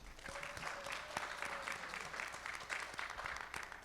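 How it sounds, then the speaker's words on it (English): An audience at a school PTA candidates night gives a steady round of applause, dense clapping sustained at even volume throughout, with no talking over it. "Please a round of applause"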